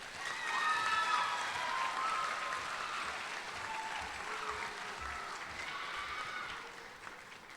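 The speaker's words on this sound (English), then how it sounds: "Please join me in a round of applause for Charlie Company." Audience applause fills a JROTC annual awards ceremony hall, a steady sustained clapping from a large crowd that holds for several seconds before slowly tapering off.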